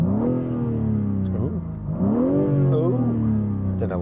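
BMW M4 engine at a drag race event revving hard to the top of its range with no soft limiter, two loud rising sweeps close by, alternating with speech.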